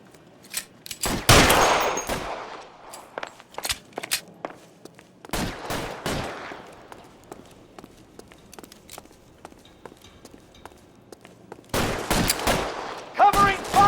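A shootout in L.A. Noire, with bursts of sharp gunshots in clustered volleys separated by quieter stretches and scattered footsteps, the firing loud and close at the start, middle and end.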